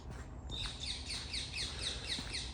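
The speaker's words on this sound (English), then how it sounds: "it appears to be some species of bird" Birds chirp outdoors at the Palace of Versailles near water, a rapid series of bright repeated tweets after the first half-second, over steady background ambience.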